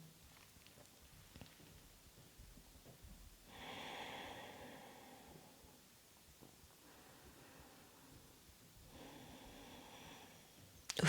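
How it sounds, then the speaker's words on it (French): Slow, deep yoga breathing comes in two long, soft breathy exhalations separated by quiet pauses, close and faint, with no talking. "laisser doucement la respiration prendre le dessus"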